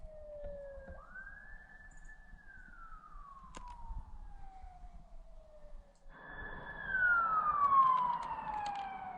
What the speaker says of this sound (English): Is that an ambulance on the parkway?